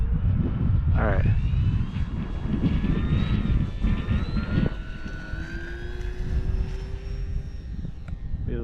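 Electric-sounding whine of an 1100mm BlitzRCWorks P-40 Warhawk RC model airplane climbing out on takeoff, a rising tone under wind buffeting and people talking nearby.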